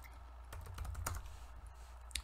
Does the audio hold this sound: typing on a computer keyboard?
yes